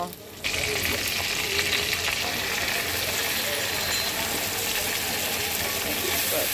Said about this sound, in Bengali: মাছ ভাজা তেলের মধ্যে দিয়ে দেব ফুলকপিগুলো, একটু হালকা ভেজে নেব।